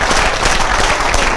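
Loud, dense applause from a crowd, steady clapping filling the whole moment with no voices standing out.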